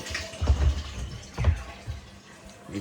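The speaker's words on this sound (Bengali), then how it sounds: "এটা হচ্ছে ড্রামে জল ভরছি।" Water pours into a drum in a few faint, uneven gushes, with quiet gaps between the bursts of running water.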